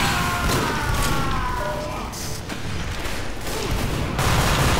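Pistol fire and other weapon blasts in Team Fortress 2 crack out in a busy, loud fusillade of sharp shots, with in-game tones and effects layered under the bursts.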